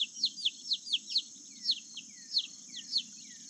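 Baby chicks on a family farm peeping repeatedly for their mother hen, a quick series of thin high chirps in uneven rhythm, fairly close, over a faint low background hum.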